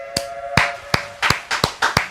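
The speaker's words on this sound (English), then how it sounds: "that's HR clapping in the back" Someone in the back of a comedy podcast studio claps by hand: about seven sharp, fairly loud claps in an uneven rhythm over a steady low electronic hum.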